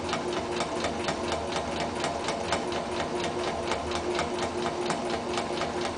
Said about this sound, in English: I'm going to do back stitching on the top and on the bottom